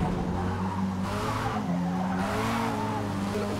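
Tires squeal and skid under hard braking in the Forza Motorsport 8 racing game, a sustained wavering screech riding over a loud engine drone for several seconds.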